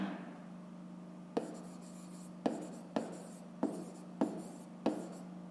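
Pen or chalk writing by hand during a fifth-grade maths exercise, heard as six sharp taps and short scratching strokes spaced about a second apart over a steady low hum, with no talk.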